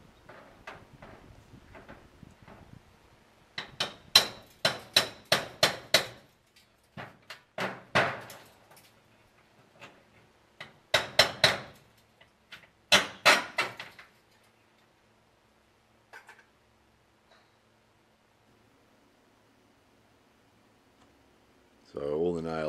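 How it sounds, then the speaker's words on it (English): Hammer pulling nails out of an old corrugated iron awning at a Japanese farmhouse, giving clusters of sharp metallic clanks and scrapes in irregular bursts, fairly close, separated by quiet pauses, with a brief louder noise at the end. "So next job was to remove the nails."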